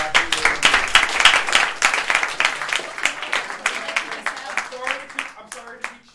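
Indoor audience at a university club's first meeting claps and applauds steadily for several seconds, a dense patter of hands that thins out toward the end, with a voice speaking underneath.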